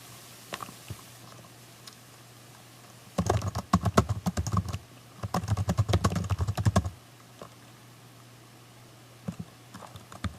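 Fast typing on a computer keyboard while writing a blog, heard as two dense bursts of close, crisp key clicks separated by a brief pause, with a few isolated taps before and after over a quiet hum.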